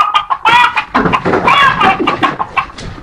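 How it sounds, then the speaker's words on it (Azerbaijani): Chicken clucking played during a phone prank guessing game about animal sounds, a loud, close run of choppy clucks and squawks in quick bursts. "Toyuq səsi"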